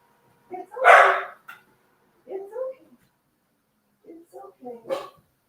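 A small dog barks at a delivery arriving down a driveway: a loud close bark, then softer yips and whimpering barks in short bursts, with quiet pauses in between.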